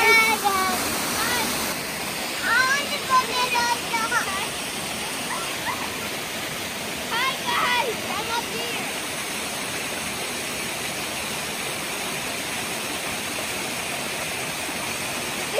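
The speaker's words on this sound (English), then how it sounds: "It's like an endless waterfall" Close by at a high mountain spot, a waterfall roars as a continuous broadband rush of falling water. Some brief barking or yelping and faint voices cut through early on, then the steady water noise carries on alone.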